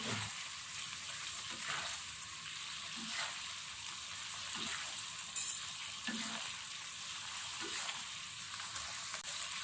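Rendang egg curry with toasted coconut simmers and sizzles steadily in a pot, a continuous bubbling hiss broken by soft periodic scrapes of a spoon stirring, with no voices.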